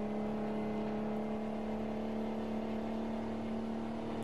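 A Mack truck engine holds at redline in American Truck Simulator, a steady, loud, sustained drone with a strong harmonic whine and no talk.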